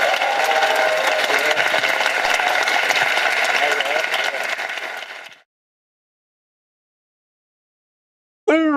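A student audience at a university town-hall talk in Suwon claps steadily and loudly for about five seconds. The applause stops abruptly, and after a silence a voice begins at the end.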